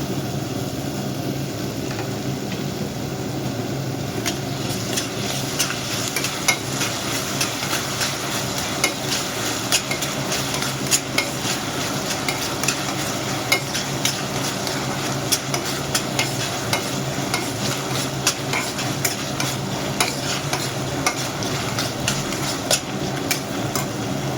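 Onions and tomatoes fry in a pan with a steady, close sizzle, broken by frequent light clinks and scrapes of a utensil as they are stirred.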